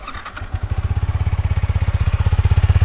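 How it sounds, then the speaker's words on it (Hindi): A Yamaha R15 V4 motorcycle with about 10,000 km on it idles close by: an even, rapid low thumping pulse that settles into a steady beat after a brief uneven start. "ये जो आप इसका साउंड सुन रहे हैं ये इसका आइडियल साउंड है।"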